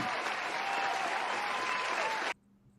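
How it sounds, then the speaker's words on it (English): A dense round of applause from a group rings out steadily, then cuts off abruptly into quiet. "I'm going to give you the round of applause."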